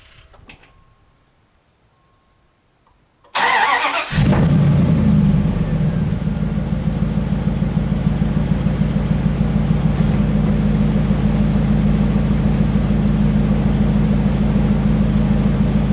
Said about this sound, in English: Here it started, and it cranked rather quickly to be so cold